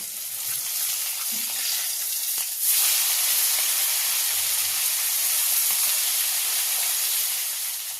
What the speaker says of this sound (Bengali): আমি উল্টে দিচ্ছি।